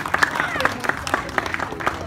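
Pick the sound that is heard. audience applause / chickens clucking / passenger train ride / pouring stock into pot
audience applause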